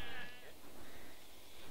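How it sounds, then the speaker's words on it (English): Sheep in a golf video game bleat in a faint, muffled chorus that stands in for a crowd, forming a low background wash. "Badger, the sheep are already applauding and making a lot of crowd noise for you"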